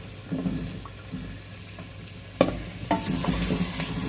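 Potatoes fry in a pan with lemon juice and spices on low heat, a steady sizzle under scraping stirs and a couple of clacks, the frying rising louder toward the end.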